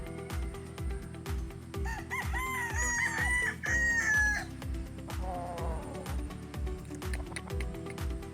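A gamefowl rooster with a straight comb on a Philippine game farm crows loudly and close in one long, rising-and-falling call, followed by softer clucks, over a steady rhythmic mechanical pulsing in the background.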